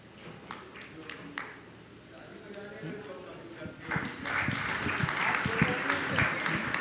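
Audience applause greets a visiting guest at a Hindu-language spiritual question-and-answer gathering, rising from scattered claps into a dense, sustained burst of clapping in the second half, with talk beforehand.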